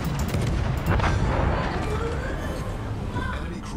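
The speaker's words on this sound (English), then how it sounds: "All fire at that ship." Heavy naval gun salvos booming in a World of Warships battle, with rumbling shots and continuous loud combat noise throughout.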